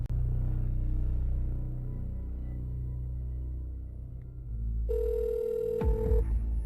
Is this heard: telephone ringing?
yes